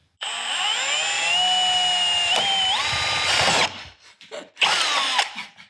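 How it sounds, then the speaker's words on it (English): A power drill with a 3/16 bit whines steadily for several seconds, boring a hole for a gusset on a diesel Jeep Wrangler upgrade, then its pitch shifts and it stops and restarts briefly, loud and close. "Now you take a 3/16 bit and you go up a 1/2 inch from your mark. That way you can drill out a hole for your gusset."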